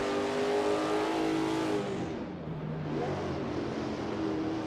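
Race cars accelerate in Assetto Corsa onto a back straight during a league championship race, engines revving high and shifting with a falling and rising pitch, loud and continuous with no talking.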